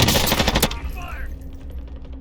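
Rapid automatic gunfire in the Warzone video game on Rebirth Island, a loud dense burst of shots that stops abruptly and leaves a ringing tail with quieter ambient noise.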